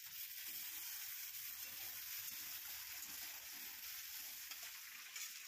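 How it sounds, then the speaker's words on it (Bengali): Chopped green chilli, garlic and green peas sauté in a little mutton fat with salt and turmeric for ghugni, giving a steady, soft frying sizzle with faint periodic stirring, quiet and without any voices. "নুন হলুদ দিয়ে কিছুক্ষণ ভেজে নিয়ে সামান্য মটন ফ্যাট দিয়ে কষিয়ে নিলাম।"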